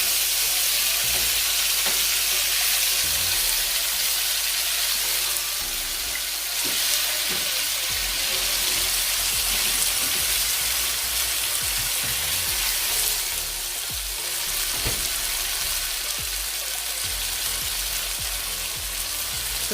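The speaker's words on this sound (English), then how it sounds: "I'm going to go ahead now and flip it over to the other side and allow it to brown as well." Chicken pieces fry in a pot after being flipped, giving a steady loud hiss and crackle of oil that runs the whole time with occasional sharper pops, and no one speaks.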